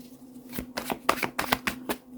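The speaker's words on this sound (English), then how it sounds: "1 more shuffle." A deck of cards being shuffled by hand, about seven quick riffling bursts in fast succession, close and crisp against a faint background hum.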